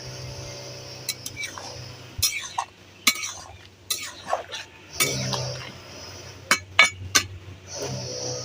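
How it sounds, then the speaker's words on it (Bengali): A metal spatula clinks and scrapes against a pot of boiling raw mangoes, sounding in a series of sharp, irregular metallic taps and clatters close by over a low simmering hum, with no talking. "আমি খুন্তি বুলিয়ে দেব।"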